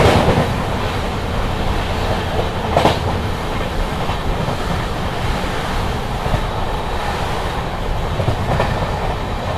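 The 14218 Unchahar Express rushes past at about 110 km/h in fog, a steady loud roar of wheels and wagons with rhythmic clickety-clack over the rails, sustained throughout with no voices.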